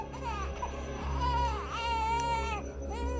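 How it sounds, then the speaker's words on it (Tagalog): An infant wails in sustained, tonal cries over a steady low hum, close and loud, rising and falling in pitch with brief breaks, heard outdoors at night near tree roots. "Iyak ng bata yan"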